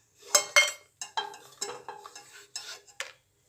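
Crisp dried red chillies, just fried in oil, are lifted out onto a plate with a spoon, giving a run of short, close metallic clinks and scrapes against cookware, with no talk.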